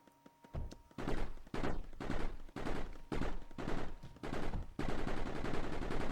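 Gunfire in a played video, shots fired through walls: a steady run of heavy, booming shots about every half second, loud and dense, with no voices over them.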